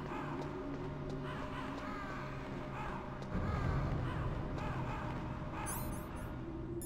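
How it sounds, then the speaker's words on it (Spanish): Crows caw repeatedly over a steady ambient drone in the video game Metal Gear Solid, the calls mid-distance and layered over a dense background bed, with a louder rumble swelling partway through. "estoy escuchando cuervos"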